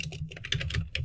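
Keys clatter on a computer keyboard while a terminal command is entered, a quick close run of uneven taps over about a second, with no talk.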